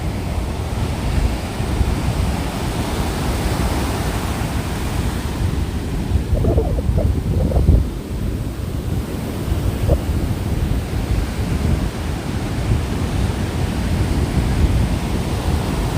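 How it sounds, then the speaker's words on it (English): Ocean surf rolls onto a beach in El Segundo or Manhattan Beach as a broad, continuous wash, with wind buffeting the microphone throughout. "the natural rhythm of the ocean"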